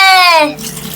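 Water splashes and runs close up as someone bathes, a brief wet burst heard alone after a rising vocal tone.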